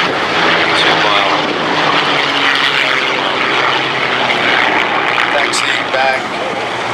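Boeing B-17 bomber 'Sally B' flying at an air display, its piston engines and propellers giving a loud, steady, broad droning roar that holds for the whole stretch, easing slightly near the end.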